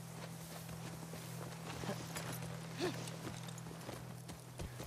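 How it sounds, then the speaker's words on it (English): Horse hooves from The Last of Us Part II clop at a walking pace under a steady low game hum, soft and somewhat faint, with one brief louder knock partway through. "Waltz around with the horse."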